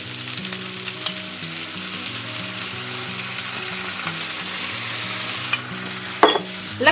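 Softening onion fries in a pan with honey while preparing red onion confit, a close, steady sizzle with utensil clinks and stirring scrapes over background music.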